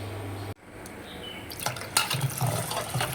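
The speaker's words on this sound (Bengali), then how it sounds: "এই ভাতের চালটা ধুয়ে রাখছি," Rice grains being washed in water in a home kitchen: a brief tap hum, a pause, then sloshing, swishing and splashing of water in a pot, close and moderately loud.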